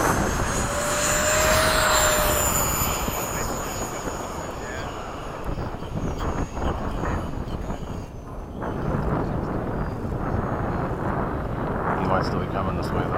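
F-5 and F-14 jet aircraft fly near each other, a loud, rushing engine roar with a thin whining tone that dips and surges as they pass, steady and close throughout.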